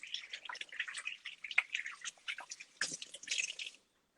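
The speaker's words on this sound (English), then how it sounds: "I'm gonna wash my hands very quickly." Tap water runs and splashes at a kitchen sink during quick handwashing while cooking, a faint, close patter of drips and rinsing that stops abruptly.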